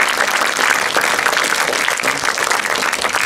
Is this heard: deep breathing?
no